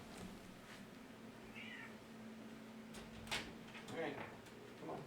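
A house cat meows a few times indoors, faint against steady room hum and light background noise, with brief rustles around it.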